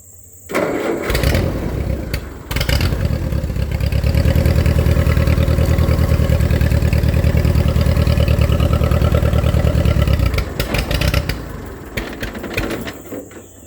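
A small engine on a rural farm coughs briefly, catches, then settles into a loud, steady mid-pitched running drone for several seconds before dropping back to a lower idle.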